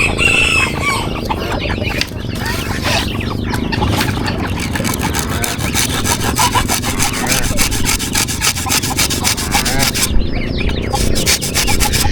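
A hand saw rasps steadily through wood in fast back-and-forth strokes while building a chicken coop door, close and continuous, with faint clucking chickens in the background.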